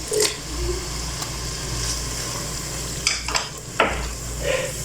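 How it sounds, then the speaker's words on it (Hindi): Spices and tomatoes go into a hot pan for Shahi Daal tarka, giving a steady sizzle with a few sharp clinks and scrapes of stirring against the pan, no talking. "बाकी सारे मसालों को डाल के तो साथ ही टमाटर भी डाल दूंगी"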